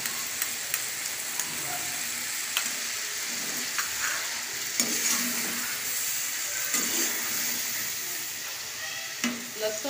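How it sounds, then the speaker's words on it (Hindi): Ginger-garlic paste sizzles and fries with chicken in a pan for a Shinwari karahi, a steady close crackle with occasional stirring clatter throughout. "अब मैं इसमें ये अदरक और लहसुन का पेस्ट जो है वो डाल रही हूँ।"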